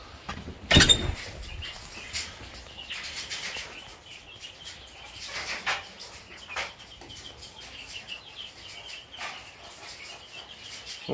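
Young Cream Legbar and Wyandotte chicks peep in a brooder, giving soft, high, scattered chirps throughout, with one brief louder knock or scuffle near the start.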